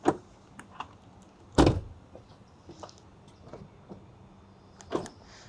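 Door of a Volvo EX60 coupe-style car with frameless double-pane glass: a sharp mechanical clunk as the door opens, followed by a few faint clicks and small taps, close and otherwise quiet.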